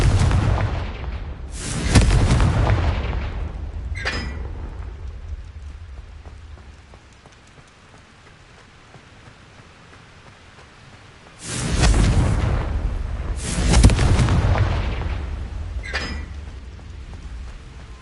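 Confringo explosion spells cast in the video game Hogwarts Legacy, with loud booming blasts in two bursts, each followed by crackling debris and a fading rumble, and a quiet stretch between.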